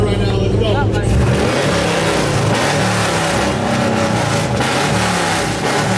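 A Ford Mustang V8 with a new exhaust revs loudly and continuously at close range, a deep throaty roar that swells after the first second and holds steady throughout.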